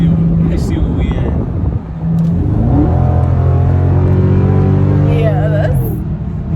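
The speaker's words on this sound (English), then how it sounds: "that's the one thing I do love about this car. Yeah. How it sounds and how it looks a little bit." A car engine idles and then revs up, its rising whine close and loud, with voices talking over it.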